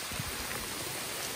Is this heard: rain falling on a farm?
yes